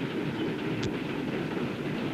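A train runs on rails in an action western setting, a steady close rumble with a brief high squeal near the middle and no voices.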